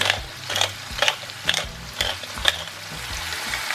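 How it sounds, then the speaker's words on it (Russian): Shrimp sizzle in a pan with repeated scraping stirs about every half second, close and moderately loud, no talking. "Обжариваю их буквально в течение двух минут."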